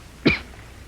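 A single sharp cough from a woman, close and fairly loud, over a quiet background.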